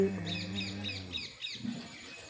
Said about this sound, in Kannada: ಹಕ್ಕಿಗಳ ಚಿಲಿಪಿಲಿ